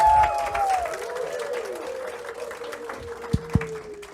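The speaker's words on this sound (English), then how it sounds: "Give her a round of applause" An audience at an on-stage event claps and cheers as a woman comes up to join the host, with whistle-like tones gliding over the crowd noise and a couple of sharp knocks near the end.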